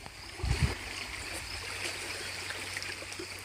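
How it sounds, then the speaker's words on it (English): Water flows down an acequia irrigation ditch along a county road, a steady broadband rush and gurgle outdoors, with a brief low thump near the start and no talking. "It's the water flowing down."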